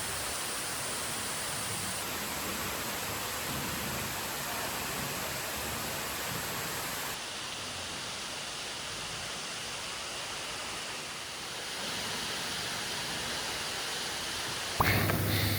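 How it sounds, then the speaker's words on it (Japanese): A waterfall, one of Japan's top 100 falls, seen up close from a boat, gives a steady, dense roar of rushing water that fills the whole stretch with no talk, ending with a brief thump. "やっぱりこのボートから近くに行って見上げる滝は迫力満点です"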